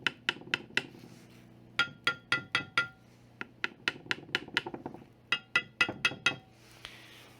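Epropulsion Spirit outboard propellers tapped by hand, one ringing with a bright aluminum- or ceramic-like clink and another duller like thick plastic, delivered as rapid close bursts of sharp taps with short pauses between groups.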